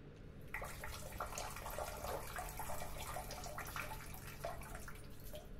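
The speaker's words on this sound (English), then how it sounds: "And it's a self-flushing toilet" A self-flushing toilet in a trailer-park horror video game flushes with a steady, rushing gush of water that runs continuously for several seconds at moderate, fairly faint level, with no talk.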